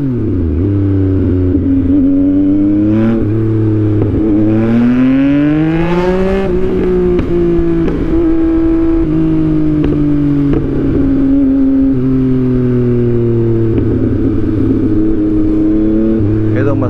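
A Yamaha MT-09 motorcycle engine revs loud and close during a ride, its rising and falling pitch sweeping through several gear changes, with a voice talking over it.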